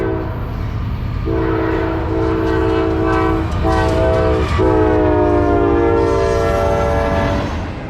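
Norfolk Southern freight train NS 130 passes through the small town of Enterprise, Mississippi, bound for Meridian, sounding a loud chorded horn in repeated blasts over a steady rumble of rolling cars.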